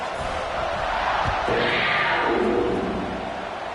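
A football stadium crowd at a USC vs Kentucky game roars steadily throughout, a dense sustained wall of cheering that swells slightly in the middle, with a distant thud early on.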